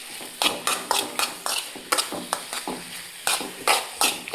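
Lemon and date pickle being stirred with salt powder in a pan, giving a close, steady run of spoon scrapes and clinks against the metal over a light sizzle, with no talk.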